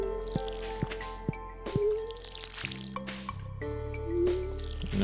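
Watering plants with a watering can in the farming game Stardew Valley brings soft liquid splashes and drips in short bursts over background game music, fairly quiet, with no talking.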